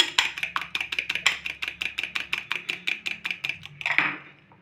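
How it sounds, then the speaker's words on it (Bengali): An egg beaten with a fork in a bowl while preparing a home-style rui fish fry. About twenty quick, even clinking strokes repeat close up for roughly four seconds, with no voices. "কাঁটা চামচে ফাটালে কিন্তু খুব ভালো হয়"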